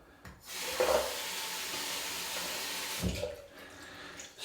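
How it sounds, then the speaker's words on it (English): Faucet water runs into a sink for a face wash after shaving, a steady, soft splashing stream close by that starts after a brief pause and ends in a splashy burst, with no talking. "Let's wash the face."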